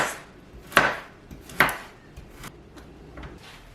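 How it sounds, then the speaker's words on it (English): Carrots and celery being cut into large pieces, with two sharp, loud knife chops against a board followed by a few softer taps, close and without talk. "I'll just cut these carrots up and the celery in large pieces."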